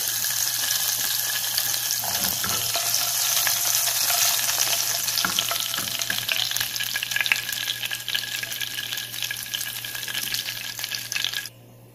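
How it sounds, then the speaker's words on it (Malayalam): Cumin seeds fry in ghee for drumstick soup, a loud continuous crackling sizzle that holds steady for most of the time and then cuts off abruptly near the end. "നെയ്യൊഴിച്ച് ഒഴിച്ച് നമ്മൾ നേരത്തെ എടുത്ത് വെച്ചിരിക്കുന്ന ജീരകം ഒന്ന് നമുക്കൊന്ന് മൂപ്പിച്ചെടുക്കാം"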